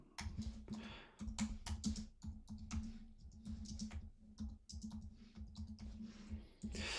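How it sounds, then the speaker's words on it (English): Fast, steady typing on a computer keyboard, dense clicking keystrokes close to the microphone, continuous with only brief pauses. "I'm so bad at typing"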